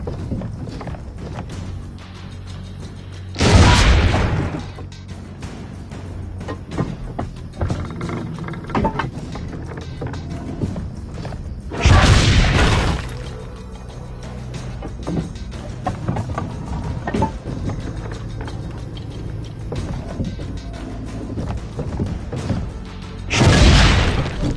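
Three heavy booming cannon blasts go off at spaced intervals, each a loud burst over a background of game ambience and hoofbeats in Assassin's Creed Brotherhood.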